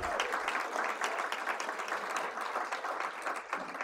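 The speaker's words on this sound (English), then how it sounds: "Give them a big round of applause." Applause from a crowd at a mayoral event in Washington, D.C., honoring city residents who voted, an even wash of clapping held steady and somewhat distant throughout.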